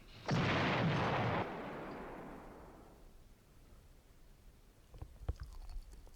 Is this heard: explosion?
yes